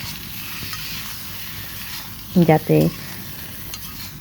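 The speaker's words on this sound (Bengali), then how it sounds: "এখন হালকা তেলে এটি ভালোভাবে ভেজে নিতে হবে" Peeled pointed gourd (potol) fries in a little oil in a pan, a soft continuous sizzle with a brief spoken word cutting in midway.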